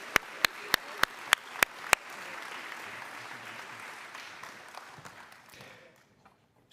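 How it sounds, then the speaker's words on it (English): An audience at a college staff day gives a round of applause. A few sharp, close claps in a quick even rhythm open it, then a wider spread of clapping fades gradually toward silence. "let's give them all a round of applause"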